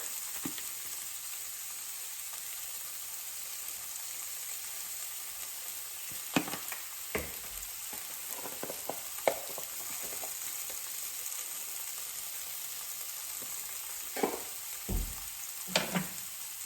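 Vegetables seasoned with salt and pepper roast in a pan with a quiet, constant sizzle, broken by scattered clinks and scraping knocks of stirring, with no one speaking.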